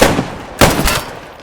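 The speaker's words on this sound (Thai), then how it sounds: "ผมได้ยินเสียงปืน ข้างๆของผม เยอะ" Gunfire in the video game Post Scriptum, two loud close sharp shots about half a second apart with a short rumbling tail, no talk.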